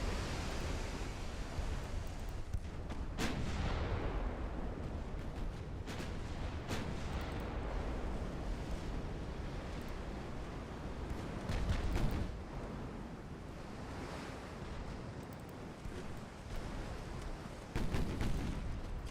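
Warship secondary guns fire in a naval battle game, scattered heavy booms rising out of a constant roaring wash of sea and battle noise, spaced irregularly across the stretch.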